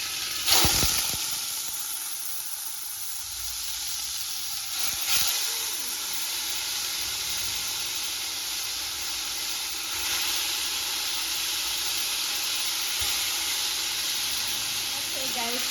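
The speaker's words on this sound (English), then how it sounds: "I just have some vegetable oil inside it, so I'm just going to add my turkey neck" Turkey neck sizzling in hot vegetable oil in a pot, a steady hissing fry with a sharp burst as the meat goes in, continuing as a constant crackle throughout.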